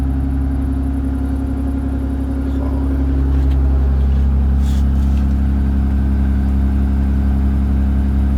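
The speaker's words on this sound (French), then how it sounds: "écoutez votre voiture tourner" A drift car's engine runs steadily nearby, a loud, even mechanical drone with a constant whirring hum, swelling slightly midway and holding without breaks.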